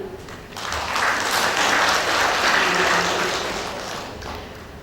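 Audience clapping at an inauguration ceremony for Perempuan ICMI regional boards in West Kalimantan swells up after a quiet start, holds as a dense, moderately loud round, then tapers off.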